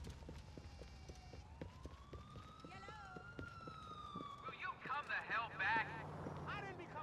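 A police car siren from the video game Grand Theft Auto IV wails in a long, rising and falling sweep, with a voice talking excitedly over the end.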